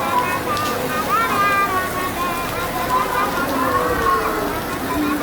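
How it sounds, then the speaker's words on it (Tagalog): Steady rain falls outdoors at a pier during an event, a continuous even hiss of drops with faint voices in the background. "Umulan lang yan. Ulan lang to."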